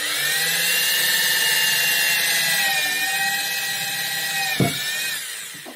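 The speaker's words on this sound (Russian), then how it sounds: "значит, я просверлю здесь" A power drill bores holes into the tub of an Indesit IWSB51051 washing machine, whining steadily and close for several seconds, its pitch sagging under load before a sharp knock and winding down.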